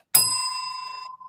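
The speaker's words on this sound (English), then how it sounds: "Billy, can you ring that bell, por favor?" A small bell gives one sharp, bright ring that lingers and fades over about a second, close and clear, followed by a faint brief rattle.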